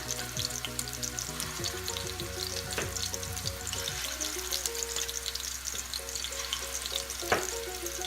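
Meatballs for a Southern homemade stew sizzle in a roomy pan, a steady frying crackle with brief clatters as they are set down, accompanied by a faint low musical hum in the background.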